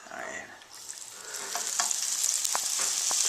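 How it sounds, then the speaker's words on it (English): Oreos deep-frying in hot oil give a continuous sizzle with scattered sharp crackles and pops, growing louder and busier over a few seconds, with no voices. "See, guys, it's frying. Cooking the moisture out of it."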